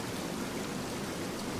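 Rushing waterfall water in the video game Tainted Grail: The Fall of Avalon forms a steady, even hiss with no breaks, heard alone at moderate loudness.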